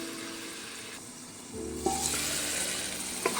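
Tomatoes simmer and sizzle in a pan for an egg, tomato and raw dal curry, a steady crackling fry that grows louder partway through, with a couple of brief clinks or stirs near and alone.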